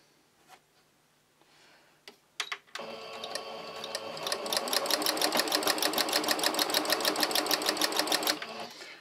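A sewing machine stitching patchwork squares, starting after a few quiet handling clicks and then running in a steady, rapid, close mechanical rhythm for several seconds before stopping.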